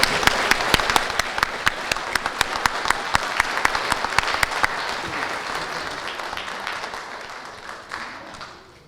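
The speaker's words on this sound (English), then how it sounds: "let's give everybody a round of applause to our new inductees" Audience applause for new inductees at a community college honor society induction ceremony, many hands clapping in a loud, crisp burst that gradually thins and fades toward the end.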